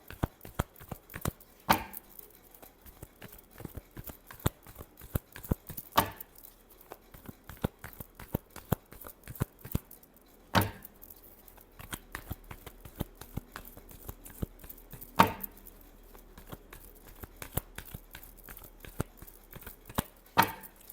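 Tarot cards are shuffled by hand in a steady run of crisp flicks and riffles, with a few louder slaps spaced several seconds apart, close and continuous with no talking.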